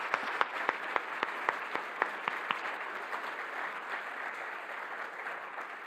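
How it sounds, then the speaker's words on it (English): An audience at a conference symposium opening session applauds a panel, steady moderately distant clapping with a few sharp individual claps, fading slightly toward the end. "A big applause for the panel."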